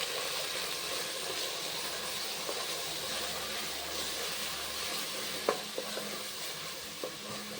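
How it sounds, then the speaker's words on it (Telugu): Onions fry in hot oil for a chicken gravy curry, a steady close sizzle with stirring and a few sharp clinks of a spoon against the pan near the end, no voices. "ఇది ఒక 2 మినిట్స్ ఫ్రై చేసుకుందాం."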